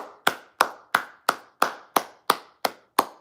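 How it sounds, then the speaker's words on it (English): One person claps slowly and sarcastically, nine sharp, evenly spaced claps close to the microphone, each ringing briefly in a quiet room with no other sound. "Round of applause to Orlando."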